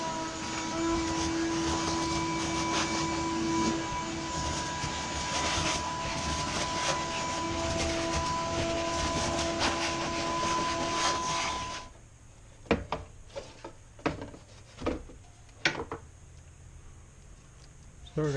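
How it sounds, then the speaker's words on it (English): Vacuum cleaner sucking leaves out of the engine bay of a C4 Corvette, a loud steady whining roar with rattling debris that runs for about twelve seconds, then cuts off, leaving faint clicks and taps. "all of these leaves we'll vacuum out of here"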